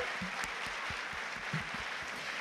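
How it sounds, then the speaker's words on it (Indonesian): Scattered applause from a church congregation in an Indonesian GKKA service, a thin patter of claps close by with low murmuring underneath, steady for a couple of seconds. "Mari Bapak Ibu kita sambut mereka, kita berikan tepuk tangan."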